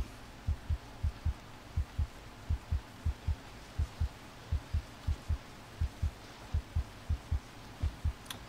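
A heartbeat effect from the survival video game Green Hell: steady paired low thumps repeat about once a second, fairly soft, over a faint background hum.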